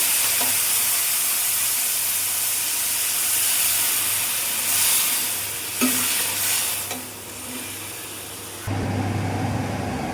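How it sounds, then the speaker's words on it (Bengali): Water poured into a pan of cooking taro (pani kochu) curry meets a steady, close frying sizzle with stirring scrapes, then a sudden louder hissing rush near the end as the liquid hits the hot pan. "এখন আমি পানি দিয়ে দেবো"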